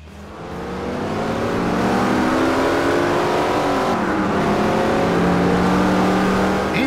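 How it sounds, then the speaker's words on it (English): A car engine in Forza Horizon revs steadily and loudly, its pitch climbing and shifting through gears as it accelerates, with no talking. "Horizon benefits from some updated engine notes"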